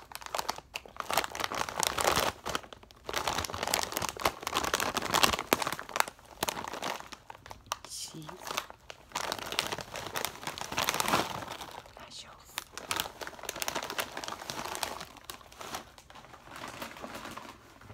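A Doritos chip bag is crinkled close to the microphone in repeated crackly bursts with short pauses between them. A soft voice is faintly present.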